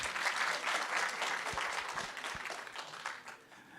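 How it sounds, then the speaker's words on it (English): An audience at a health hackathon winner announcement claps for the winners, a dense burst of applause that holds steady and then gradually thins and fades. "Give them a round of applause."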